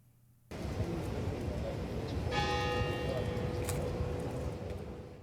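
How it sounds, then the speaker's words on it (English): Historic Christchurch Cathedral bell tolling for a funeral procession, a bright ringing strike with a long sustained hum rising over a steady rumble of traffic and outdoor crowd noise. "The tolls of the historic Christchurch Cathedral bell marked the final journey of late Commissioner Paul Farquharson"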